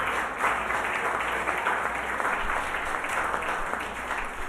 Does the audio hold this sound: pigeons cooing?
no